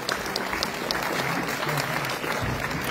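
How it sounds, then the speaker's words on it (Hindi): Sustained applause from an audience at a cultural festival honoring ceremony, steady and fairly loud throughout with no speech over it. "जोरदार तालियां उनके लिए।"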